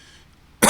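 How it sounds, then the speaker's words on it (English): A single sharp cough bursts out after a moment of near silence, loud and close. "sorry for the cough"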